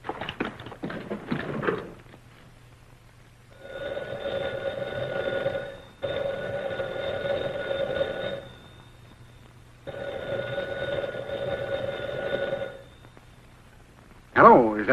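An old private telephone rings in two long bursts of bright bell trill separated by silence, fairly loud and close, with talk just before and a voice starting at the very end.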